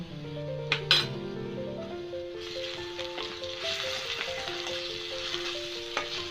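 Ginger-garlic paste and spices fry with softened onions in a pan over a low gas flame. A gentle, steady sizzle runs with occasional utensil clinks, under soft background music.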